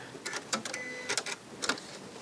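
A Janome Skyline sewing machine finishes a stitch cycle and ties a locking stitch, giving a few short whirring and clicking bursts spaced unevenly, close and moderately loud.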